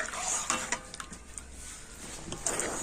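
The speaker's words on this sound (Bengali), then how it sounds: "আর এখন আমি কন্টিনিউ জাল দিয়ে তো দুধটাকে একটু ফুটিয়ে ঘন করে নেব।" Milk simmering and being stirred in a pot to thicken it for kheer bhapa pitha, with soft scraping and clinking of a spoon against the pot over a faint bubbling hiss. No voices.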